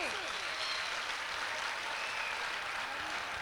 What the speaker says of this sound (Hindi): करतल ध्वनि के साथ जोरदार तालियां बड़े सर के लिए